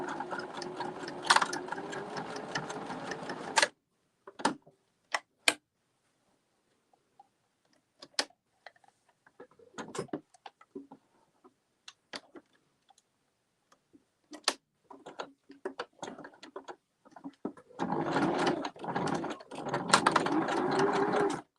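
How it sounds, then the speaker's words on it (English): A sewing machine running a zigzag stitch across fabric, stitching back and forth in short loud bursts with brief clicking pauses between them, then a longer sustained run near the end. "I'm going to start with that zigzag stitch, and I'm just going to sew across in the middle."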